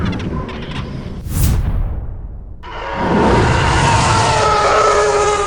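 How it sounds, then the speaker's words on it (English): Star Wars sonic weapon explosion effect built from sound waves: a sharp rising whoosh bursts out, a brief lull follows, then a loud, dense, sustained roaring blast fills the rest, with no voices. "When George Lucas tasked him with creating a sound for a weapon that uses sound waves to create an explosion, Ben said, "Hold my Nagra.""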